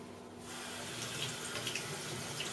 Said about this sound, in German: das Wasser immer so aus dem Löffel raus gleich wieder katapultiert